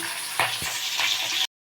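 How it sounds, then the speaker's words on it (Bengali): Hilsa fish pieces fry in a pan of oil, making a dense, close, constant sizzle with a brief knock of the spatula before it cuts off abruptly. "আর এক খোলা আমি আরেকটু তুলতে দিয়েছি চটপট মাছ ভাজা হয়ে যাবে"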